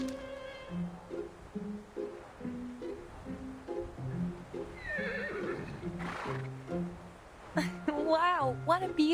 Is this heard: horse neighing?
yes